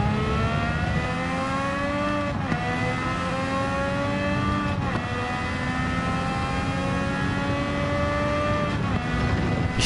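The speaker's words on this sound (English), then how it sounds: "you can hear the grunt and the engine, but there's like this high-pitched electronic ring sound in the back of it" Race car engine at Monza in a night time trial, a steady loud grunting drone with strong stacked harmonics and a high-pitched electronic ringing tone above it, pitch climbing through gear shifts with brief dips between them.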